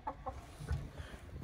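A couple of soft clucks from a chicken, quiet and nearby, over faint low background noise.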